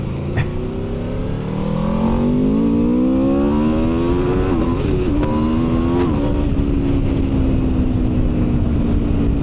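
An Aprilia RSV4 1100 Factory motorcycle accelerates hard, its engine note climbing steadily in pitch through the gears with brief shift breaks, loud and close against constant wind roar.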